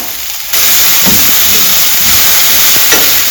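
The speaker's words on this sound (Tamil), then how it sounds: "இப்போ இஞ்சி பூண்டு விழுது சேர்த்துட்டுங்க." Ginger garlic paste dropped into onions sautéing in hot oil for a veg puffs filling: a sudden loud sizzle bursts in and holds as a strong, steady hiss, with faint stirring knocks underneath.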